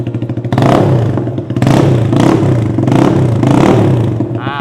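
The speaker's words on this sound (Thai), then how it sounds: "เดี๋ยวเรามาฟังเสียงท่อกันอีกรอบนะฮะ" Exhaust of a 2021 Stallion CT 170i bobber motorcycle, loud and close, idling with a throbbing rumble, then rising in several blips of revving that fall back, with no talking.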